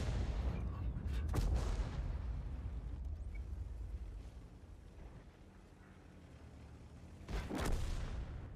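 Tank cannon fire in a light-tank video game, two heavy booming shots several seconds apart over a low rumbling engine drone, with a deep rolling tail after each blast.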